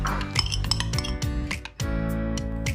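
A whisk beating pumpkin, egg and sugar batter in a bowl, producing quick rhythmic clinking taps against the bowl's side in a steady series, close up and with no talking.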